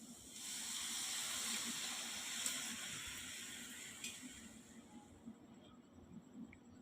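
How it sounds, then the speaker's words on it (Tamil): Tamarind water poured into a pan while cooking a Chettinad brinjal dish, a steady close liquid gush and hiss that tapers off into a few faint drips and splashes. "கரைச்சி வச்சுருந்த புளி தண்ணி சேர்த்துக்கலாம்."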